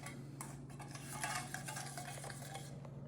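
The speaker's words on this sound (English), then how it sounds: "I'm gonna mix this up real good" A spoon or utensil stirs and scrapes a seasoning mix in a bowl for flat iron steak, with a quick steady rhythm of soft clinks and rubs over a constant low hum.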